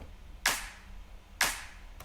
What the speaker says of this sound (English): Let me show you the clap.